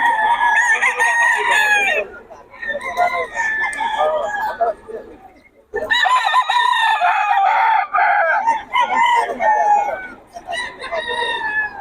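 Sweater gamefowl roosters at a Bocaue market crowing loudly and close, several overlapping cock-a-doodle-doos and clucks filling the air in repeated bursts with short pauses between.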